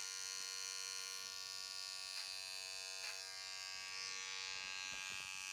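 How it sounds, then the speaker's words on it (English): A small electric hair trimmer buzzes steadily and faintly while detailing a skin fade haircut, its constant hum broken by a few light contact clicks. "Using this nice small little trimmer to get some of these really detailed looks"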